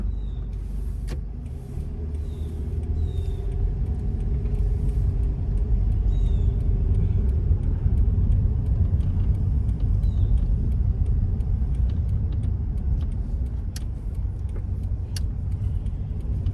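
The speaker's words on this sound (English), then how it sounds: "Put the car back in drive. We're gonna go forward down to the end and make a left." A car rolls forward during a driving test, its engine and road rumble a steady low hum heard from inside the cabin, with faint clicks and no talking.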